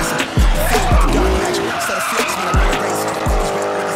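A BMW E36 fitted with a V8 skids hard, its tires squealing loudly in repeated bursts over a roaring, revving engine, with a few sharp low thumps as it slides.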